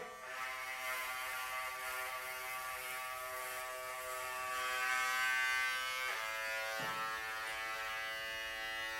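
Electric hair clippers on their turbo setting buzz steadily and close by while cutting a thick mop of hair, the tone dipping briefly as the blades bite in, with no talking.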